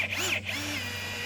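A power drill drives 1.25-inch screws into wood, building a chicken swing: a steady close whine with a brief pitch rise and dip, running alone.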